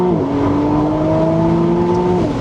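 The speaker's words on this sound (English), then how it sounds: "we're just gonna go drop a couple of cogs and full throttle" A 2025 McLaren Artura Spider V6 supercar accelerates hard at full throttle on an open road after dropping gears, its engine note rising in a loud, close wail that climbs and then shifts near the end.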